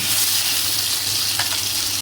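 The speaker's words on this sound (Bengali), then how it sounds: "তেলটা গরম হয়ে গেছে, এবার কড়াইশুঁটি বাটাটা দিয়ে দেবো।" Pea paste hitting hot white oil in a wok for kochuri filling gives a loud, steady broadband sizzle filling the whole short span, with no talk.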